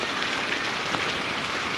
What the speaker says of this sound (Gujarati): જબર વરસાદ